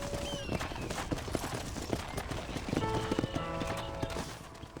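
Horse hooves clip-clop steadily in Red Dead Redemption, a close, even trot over a busy bed of game ambience, with a brief whinny-like call near the start.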